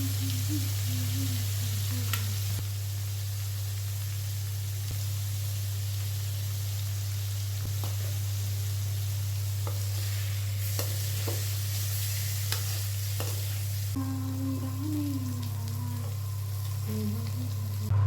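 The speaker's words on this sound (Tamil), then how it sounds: "எண்ணெய் ஊற்றிட்டு கடாயில் ஒரு பன்னீராக போட்டு உப்பு, பெப்பர், கொஞ்சோண்டு மிளகாத்தூள் போட்டு நல்லா பரட்டினாப்பில் ரோஸ்ட் பண்ணி எடுத்துக்கோங்க." Paneer cubes roast in hot oil in a kadai with salt, pepper and a little chili powder, giving a steady close sizzle that runs the whole time with occasional stirring scrapes over a low hum.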